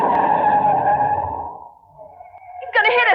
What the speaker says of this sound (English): I'm shoving the brakes on hard